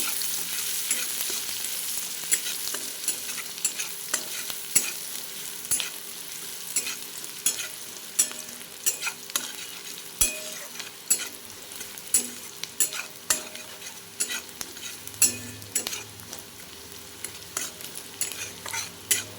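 Chopped onions frying in hot oil, a dense continuous sizzle broken by frequent scraping and clicking strokes of a spoon stirring the pan, close up with no talking.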